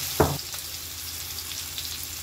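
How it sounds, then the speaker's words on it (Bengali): Spices drop into hot oil with one sharp burst of sizzle, then the frying settles into a soft, steady crackle close by. "এবারে তেলের মধ্যে আমি এটা দিয়ে দেব। যে মশলাগুলো ছিল সেই মশলাগুলো আমি এইভাবে"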